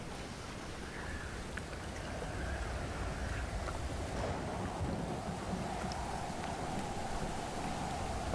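Storm rain in the survival video game Stranded Deep: a steady, dense hiss of heavy rainfall with a low rumbling wash, continuous and even throughout with no talk.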